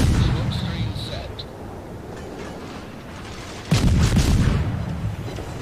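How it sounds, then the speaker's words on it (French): Naval cannon fire in the World of Warships video game: a heavy boom opens the stretch and a second loud salvo lands later, each followed by a rumbling decay. "Alors on finit tout ça au canon."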